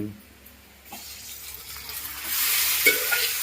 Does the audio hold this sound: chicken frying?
yes